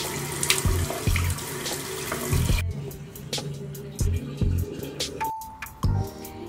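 Tap water runs into a sink during a face rinse after a bubble facemask, with splashing and a few clinks in the first seconds, then quieter intermittent trickles and splashes close by.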